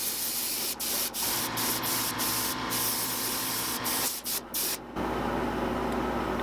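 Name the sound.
spraying acrylic primer onto carved fish model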